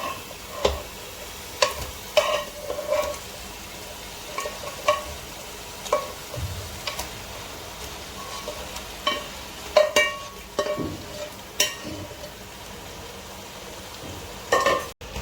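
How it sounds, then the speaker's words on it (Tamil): Boiled mutton pieces fry in a tomato masala base for green mutton biryani, a steady close sizzle punctuated by repeated sharp clinks and scrapes of a spoon stirring against the pan. "இப்போ மட்டன் போட்டு நல்லா பரட்டி எடுங்க."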